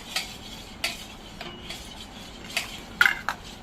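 A spoon stirs raw colostrum with milk in a bowl for kharvas, making a steady run of scraping, clinking strokes roughly every half second, close and clear with no talk.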